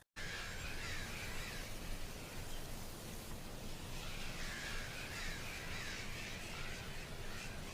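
Crows caw from a flock in the distance, a few hoarse calls rising over a constant hiss of background noise and rustle, faint and spread across the stretch.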